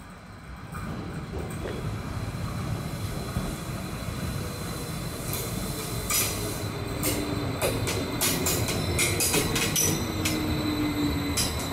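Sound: ET 131 train arriving at Berchtesgaden station

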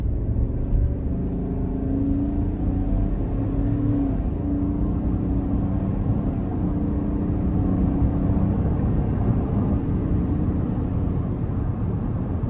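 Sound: 2024 Chevrolet Tahoe LS 5.3 V8 accelerating under throttle

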